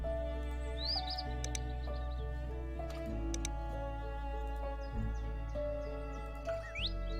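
Bright chirps, tweets and trills from the birds of the Wingspan board game's prairie habitat ring out over a steady layered ambient musical drone, continuous and fairly prominent.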